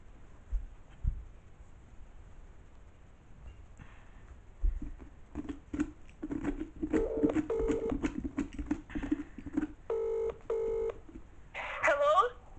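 A phone keypad beeps out a run of short dialing tones, several quick beeps in bursts followed by a pair of longer tones, heard close in a quiet room after some light tapping and rustling.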